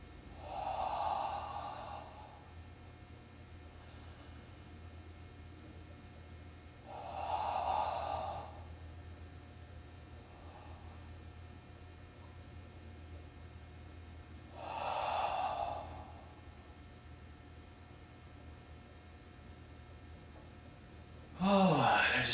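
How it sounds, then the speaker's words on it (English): Slow, deep breaths during a yoga bow pose: three long, soft breaths spaced about seven seconds apart, close to the mic, with a brief louder rustle at the very end. "I'm just going to breathe a little slower and nicer."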